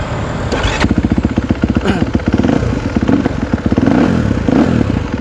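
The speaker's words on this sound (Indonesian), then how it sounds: "ketika mau menyalakan motor KX ini ada cuknya juga ya di sebelah kiri di bawah jok" A Kawasaki KX250X dirt bike engine runs close by, loud and rhythmic, with a sputtering, rapid-fire exhaust pulse and brief rises in revs.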